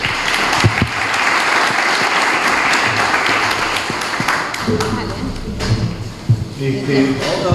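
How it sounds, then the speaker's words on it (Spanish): An audience at an agricultural practices talk at an expo applauds in a loud, dense burst that fades after a few seconds, giving way to murmuring voices and nearby talk. "un aplauso para Guillermo y para todos"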